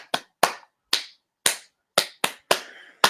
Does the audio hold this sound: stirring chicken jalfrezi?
no